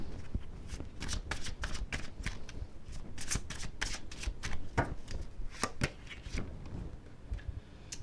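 Tarot cards shuffled by hand in quick, rhythmic riffling bursts, close and crisp, continuing steadily for several seconds without speech.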